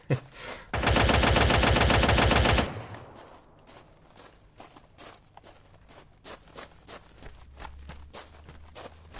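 Sustained burst of automatic gunfire in the tactical shooter game Ground Branch, loud and close for about two seconds, followed by quieter footsteps and scattered shuffling movement.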